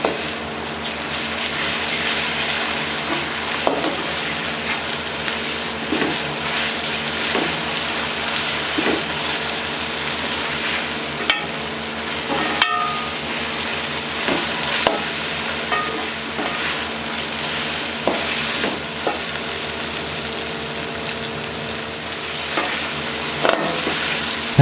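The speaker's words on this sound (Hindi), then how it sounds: "अदरक लहसुन को अच्छे तरीके से फ्राई करेंगे।" Ginger and garlic fry with onions in a pan for a village-style potato and capsicum curry, giving a steady close sizzle with faint stirring clicks and no talk.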